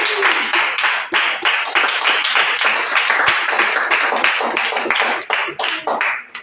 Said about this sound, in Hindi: आइए हम पवित्र आत्मा का स्वागत करेंगे ताली बजाकर।